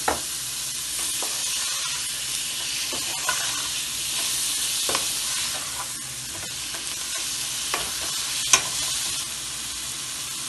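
Tomatoes fry in a little oil for a palak chicken dish, a steady sizzle broken by scraping stirs and occasional sharp clinks of the spoon against the pan, with no voices.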